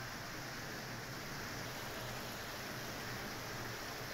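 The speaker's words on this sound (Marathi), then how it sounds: "जेजुरीमध्ये संध्याकाळी जोरदार पावसाने काल हजेरी लावली" Heavy evening rain in Jejuri comes through as a faint, unbroken wash of broadband hiss with no voices or other distinct sounds.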